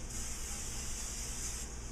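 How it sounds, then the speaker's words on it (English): A short continuous hiss of aerosol cooking spray onto a quesadilla pan lasting over a second, soft and close, stopping abruptly. "Get some cooking spray, spray that on there."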